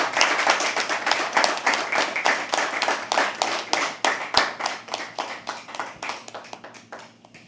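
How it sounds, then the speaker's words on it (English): An audience claps steadily at a live poetry open mic, a dense run of sharp, evenly spaced claps that keeps going and slowly tapers off near the end, with no voices over it. "Keep clapping, keep clapping, keep clapping."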